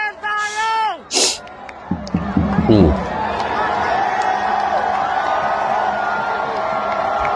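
A football crowd of Indonesian supporters after a match, noisy hubbub and cheering with whoops, loud early shouts then a sustained roar of massed voices.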